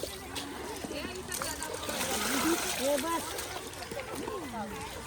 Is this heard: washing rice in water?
yes